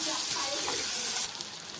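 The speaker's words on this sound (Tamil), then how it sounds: "வெங்காயம் போட்டு நல்லா வதக்கிடலாம்." Chopped onions frying in a pan for an okra masala, a steady close hiss of sizzling that continues throughout and drops a little in loudness near the end.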